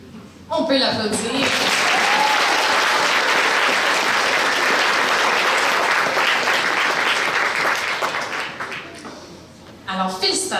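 Sustained audience applause at a regional science fair awards ceremony in Québec, starting abruptly and holding steady for about eight seconds before tapering off, with brief speech at the start and end.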